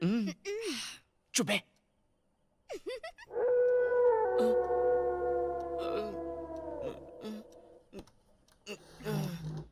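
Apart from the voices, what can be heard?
dog howling and barking at night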